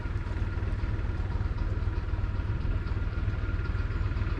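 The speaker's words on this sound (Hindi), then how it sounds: "यहाँ पे ये ट्रैक्टर पे जो पंप चल रहा है" A tractor-driven water pump running in a mung bean field, the diesel tractor engine idling in a steady low, even chug throughout, close and continuous with no talk.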